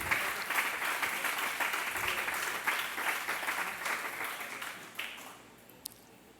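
A church congregation applauds steadily for several seconds during a Spanish-language sermon, the dense clapping filling the room before tapering off near the end.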